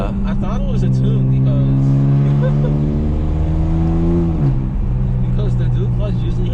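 A 2008 BMW E82 135i tuned to about 400 hp accelerates hard from inside the cabin, engine note rising steadily then dropping with a quick gear shift before climbing again, loud and continuous under people talking.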